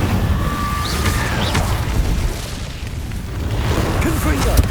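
Fiery spell blasts from the Incendio charm cast during Hogwarts Legacy combat, booming bursts layered over dense battle noise and a voice talking throughout.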